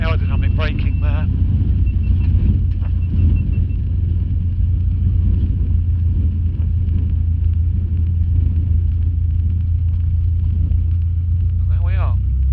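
A light aircraft rolls out along the runway at Netherthorpe Airfield after landing, its engine and rumbling wheels making a loud, steady low drone from start to finish, with brief radio-like voices near the start and end.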